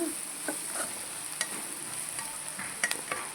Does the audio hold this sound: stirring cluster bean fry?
yes